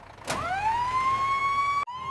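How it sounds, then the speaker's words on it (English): A cartoon fire truck siren rises quickly after a sharp burst and holds a single steady tone, close and clear, breaking off briefly near the end. "I'm fire truck. I say nee naw nee naw."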